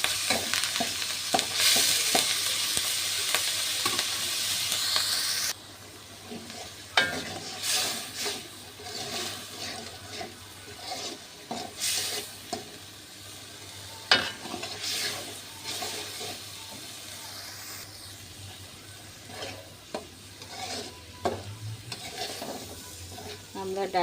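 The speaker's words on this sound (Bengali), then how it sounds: "চুলায় কড়াই বসিয়ে তেল দিয়ে পেঁয়াজ রসুন আর চিংড়ি মাছ দিয়ে দিয়েছি।" Prawns, onion and garlic fry in oil in a wok, giving a steady, close sizzle with scraping stirs throughout and a brief louder hiss early on.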